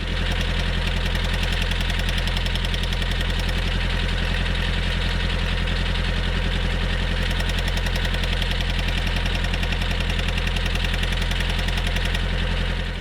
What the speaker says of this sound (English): this chattering noise in the transmission area is really bothering me